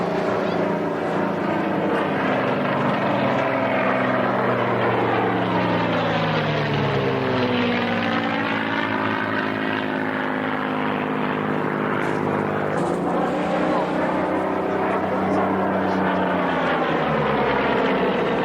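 Spitfire aircraft roar overhead at a 1996 Southampton airshow, the piston engine's droning tone rising and falling with a strong Doppler sweep as it makes a loud, close pass and then another, with faint crowd voices beneath.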